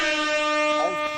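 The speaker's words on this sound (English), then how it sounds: "Where's my air horn?" Air horn blast played from a phone app, one sustained loud blaring tone held for about a second, with background chatter faintly under it.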